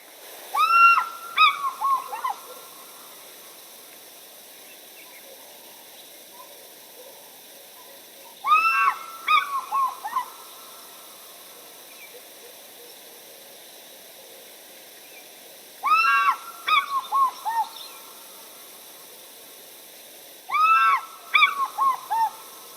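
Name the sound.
African fish eagle call recording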